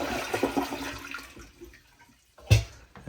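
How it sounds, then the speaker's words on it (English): A toilet is flushed in a bathroom during a lake house shutdown, a brief loud whoosh of water rushing through the bowl after a quieter moment. "flush the toilet"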